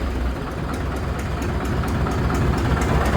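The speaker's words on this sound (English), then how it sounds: "So you gotta idle her down here," A Farmall 650 tractor engine idles steadily up close, a low, even rumble with a faint regular ticking running through it and no voices.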